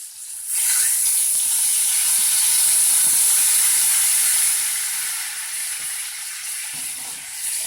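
White wine poured into a hot skillet with ocean trout bursts into a loud, steady hiss of sizzling steam that holds for several seconds and then eases slightly.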